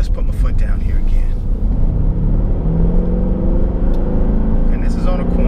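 A Mercedes SL 63 AMG accelerates hard, its engine rumble building and rising in pitch from inside the car, with someone talking over it.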